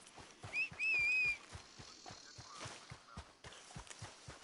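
Horse hooves from riding a horse in a video game beat out a steady, even clip-clop rhythm close by, with brief whistled tones above them early on.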